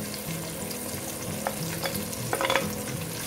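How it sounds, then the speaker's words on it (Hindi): Chicken with mixed spices fries in a pan on a medium flame, a steady close sizzle with scraping stirs and a few sharper crackles near the end, no voices. "और अब हम इसको थोड़ा सा भून लेंगे।"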